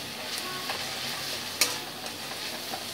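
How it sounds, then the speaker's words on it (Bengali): Spice mixture for a bitter gourd curry being stirred in a hot pan, a quiet continuous sizzle with light scraping strokes and one sharper knock of the spatula, no voices. "মশলাটাকে একটু ভালো করে মিশিয়ে নিয়ে"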